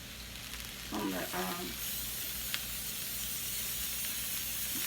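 Cooking spray hisses onto chicken and vegetables frying in a pan, a short close spray burst over a steady sizzle with faint handling clicks.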